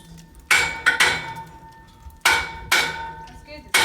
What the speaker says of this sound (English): this is the bogus hammer you got me